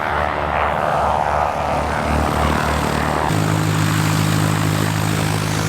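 Aircraft engines roaring nearby on an active airport taxiway at an airshow, a loud, sustained propeller-and-engine drone that shifts to a steadier, deeper pitch partway through, filling the whole stretch.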